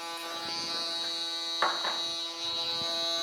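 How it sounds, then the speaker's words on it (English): Electric foil shaver running on a fade haircut, a steady close buzz with a constant whine, briefly intensifying as it presses along the hairline. "I'm going to use my foil shaver to bald out that bottom even more."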